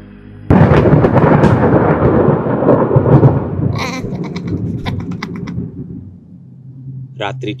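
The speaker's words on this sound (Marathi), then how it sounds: "रिमझिम पाऊस पडत होता." Thunder bursts suddenly and then rumbles on loudly over a forest road at night in light drizzling rain, gradually fading with scattered sharper cracks.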